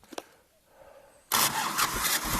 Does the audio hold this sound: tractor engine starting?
yes